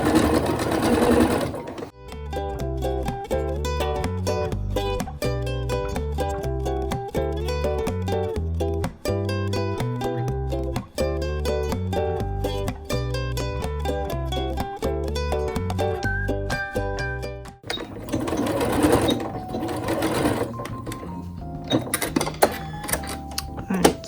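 A sewing machine stitches the side seam of a simple skirt in a long, rhythmic run of close, loud needle strokes, with brief pauses and a reverse lock. Voices and handling noise come just before and after it.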